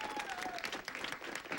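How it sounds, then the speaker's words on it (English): Studio audience applause for Miss Norris, a brief burst of dense clapping from a crowd, steady and moderately loud for the whole short moment. "Let's give Miss Norris a big round of applause"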